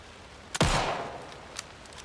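A single loud gunshot in Alan Wake II, a sharp crack that tails off over about half a second, followed by a fainter second pop, against quiet ambience.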